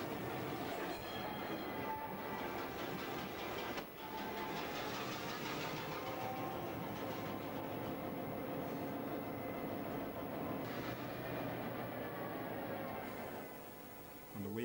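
An Irish Rail train leaving a rail yard rumbles steadily along the tracks with rolling wheel noise and occasional clanks and faint squeals, close and continuous throughout.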